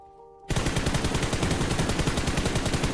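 Gunfire in the mobile battle royale game PUBG Mobile: after a brief quiet moment, a loud, rapid, continuous automatic burst of shots fills the rest of the clip.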